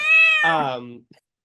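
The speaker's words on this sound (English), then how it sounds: "Oh, my kitty just came in here." A pet cat gives one clear, close meow that drops in pitch and fades, followed by a soft short sound, then quiet.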